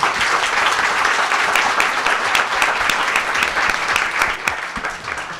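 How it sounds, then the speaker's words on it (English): Steady, loud clapping from an audience fills the whole stretch, a dense continuous applause without voices standing out. "Let's have a round of applause for our panel."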